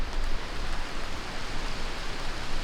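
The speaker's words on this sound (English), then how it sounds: "Well, here comes the rain." Steady rain falling as a storm moves in outdoors, a dense, even hiss of drops on surfaces that stays fairly loud and constant throughout, with no voices.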